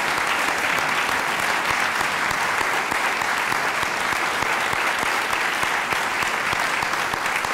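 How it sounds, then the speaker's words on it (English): Steady, dense audience applause fills a hall at a 2013 alumni medal award ceremony, many hands clapping continuously and evenly throughout with no break, without voices over it. "And I think we'll give them some applause."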